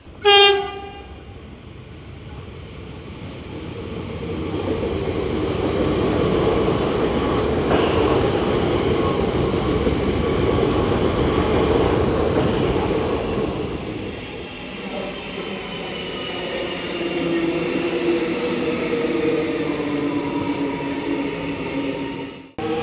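Two trains rumble past in the same direction for a long stretch, a loud roar of wheels on rails swelling and fading, with a horn sounding at the start.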